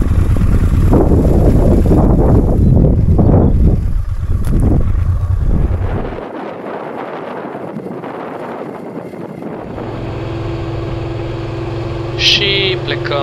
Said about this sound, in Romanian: vântul este atât de puternic încât era să ne ia de câteva ori de pe drum